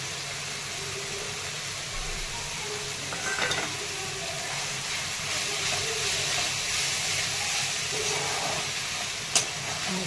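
Grated coconut and fenugreek sauté in oil, giving a soft, even sizzle and hiss with occasional stirring scrapes and a sharp tap near the end, close and unbroken by speech.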